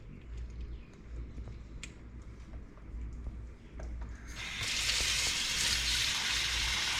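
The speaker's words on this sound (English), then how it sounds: "Quick rinse." A cleaned blue crab rinsed under running water: faint handling clicks at first, then a louder steady gush of water from a tap in the last few seconds.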